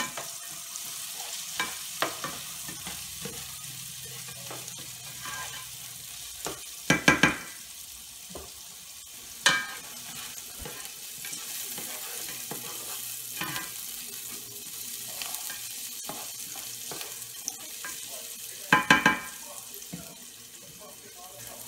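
Vegetables for a beef ragu get stirred in a pot, soft scraping and gentle sizzling with a few louder clanks of the spoon against the pot, close and fairly quiet throughout.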